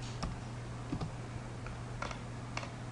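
Someone types on a computer keyboard, a few soft, sparse key clicks spaced irregularly over a steady low electrical hum, quiet and close.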